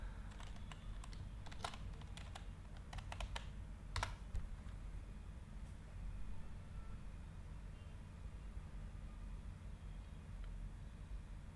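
Typing a username and password on a computer keyboard while logging into an Ubuntu virtual machine, with scattered key clicks and a few louder taps over a steady low hum.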